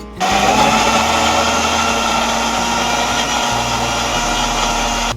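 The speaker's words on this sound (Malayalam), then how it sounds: "നല്ല തിക്കായിട്ട് നമ്മളിതാ മിക്സിയിലിട്ട് അടിച്ചെടുത്തിട്ടുണ്ട്" A mixer grinder blends carrots and cashews into a thick milkshake, running loud and steady as one continuous motor whir for about five seconds, with slight shifts in pitch as it works.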